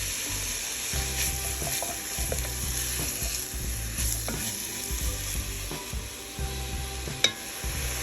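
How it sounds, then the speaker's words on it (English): Chopped onions and carrots hiss steadily in a minestrone pot while a spoon stirs them in repeated low scraping strokes, ending with a sharp clink against the rim; close, no speech. "grab my onions and my carrots all nice and chopped. Add them all in. Give them a little stir."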